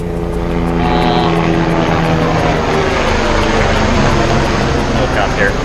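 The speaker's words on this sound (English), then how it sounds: "Helicopter." Loud, continuous rotor roar and engine drone of a helicopter flying overhead, with a rhythmic chopping flutter throughout.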